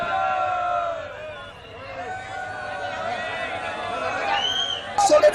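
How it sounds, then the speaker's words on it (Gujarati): A large crowd of devotees gathered at a temple in Dwarka during the Fuldol festival, heard as a dense, continuous murmur of many voices with raised shouts swelling toward the end. "ભક્તોની ભારે ભીડ બની છે"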